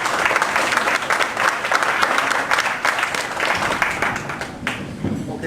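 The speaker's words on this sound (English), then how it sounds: "please give them a warm round of applause" An audience gives speakers a warm round of applause before a talk on public relations; dense clapping holds strong and steady throughout, with a few sharper claps standing out near the end and no voices.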